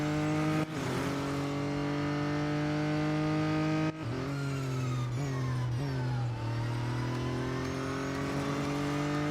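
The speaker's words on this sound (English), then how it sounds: "It feels like there's a Porsche Taycan S Turbo in there somewhere." Porsche Taycan S Turbo in Real Racing 3, its engine revving loud and steady with pitch rising and dropping through several sharp shifts.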